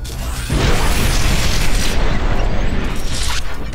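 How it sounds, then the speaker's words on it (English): In the game MOTHERGUNSHIP, an electrical geyser builds with a brief pre-charge, then bursts into a loud, sustained electrical explosion, a dense roaring crackle that holds for about three seconds. "it has this pre-charge that happens to warn the player, and then it explodes with electrical effects"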